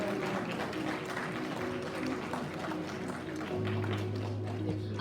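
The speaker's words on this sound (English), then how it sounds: "Let's show our appreciation with a big round of applause for the graduates of" Audience applause for graduates at a graduation ceremony, steady clapping in a large room with a low hum underneath and some voices mixed in.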